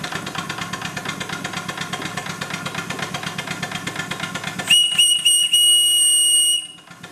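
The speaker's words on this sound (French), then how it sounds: "Alors ça, c'est le sifflet qui servait à l'embauche et à la débauche" A work whistle on a Merlin portable steam engine driving a forestry saw sounds loud and steady for about two seconds, cutting in sharply over the engine's rhythmic chuffing, which then quiets beneath it.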